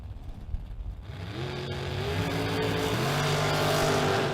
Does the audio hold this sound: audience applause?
no